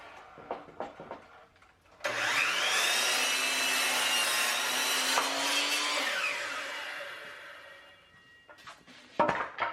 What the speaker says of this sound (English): So I'm going to cut these down to that 7 foot 9 inch mark.